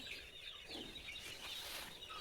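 Chickens cluck and chirp in a low-budget poultry shed built with cement posts, sheet roofing and mesh over a bare soil floor, where the birds scratch and peck at the earth. The calls are steady and fairly close, with no talk over them.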